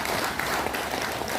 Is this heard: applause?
yes